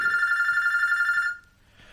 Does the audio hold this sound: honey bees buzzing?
no